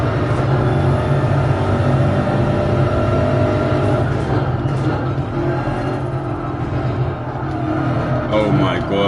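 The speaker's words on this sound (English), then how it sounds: "So here I would have been on the throttle like a lifetime ago in the Formula 1 car." A Formula 1 car in Gran Turismo 7 holds a loud, steady engine drone with shifting pitch, easing briefly before rising again, while a person talks over it.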